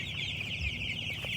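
Chicks cheeping steadily in a pen, a dense continuous high-pitched chorus with a low hum underneath.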